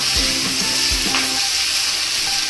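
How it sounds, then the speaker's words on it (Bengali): Onion sautés in a pan with a little oil, not deep-fried, before capsicum goes in for chilli chicken. A constant, bright sizzle fills the clip, with a couple of soft knocks of the spatula early on. "পেঁয়াজটা ডিপ ফ্রাই করবো না, মোটামুটি একটু সতে হয়ে গেলে তারপর ক্যাপসিকামটা দিয়ে দেবো"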